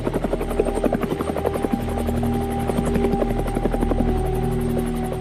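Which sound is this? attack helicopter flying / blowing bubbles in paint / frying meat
attack helicopter flying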